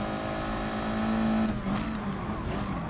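A race car engine in GT Sport, heard on lap 8 of a race: a loud, sustained engine tone that holds steady, then drops and shifts pitch after about one and a half seconds.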